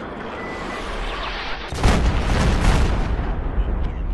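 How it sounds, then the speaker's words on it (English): A large explosion destroys a capture point in Battlefield 3: a sudden loud blast erupts partway through and leaves a sustained roaring, crackling wash of debris over steady battle noise. "There was a large explosion"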